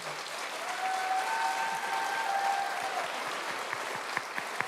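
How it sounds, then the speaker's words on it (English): A debate audience in South Orange at a 2024 Democratic primary event gives steady, moderately loud applause for the candidates, with a faint tone briefly audible at first and scattered individual claps standing out as it thins near the end. "Let's give the candidates a round of applause, please."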